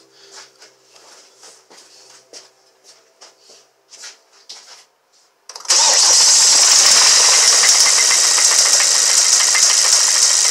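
A Kia Sorento 2.4 engine cranks over with a quick rattling series of starter bursts, then catches and settles into a loud, rough, harsh idle that runs on steadily.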